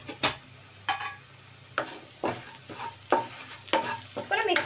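Browned ginger and garlic with salt stirred in a frying pan: about eight sharp scraping strokes in an uneven rhythm over a soft sizzle, close up, with no voices.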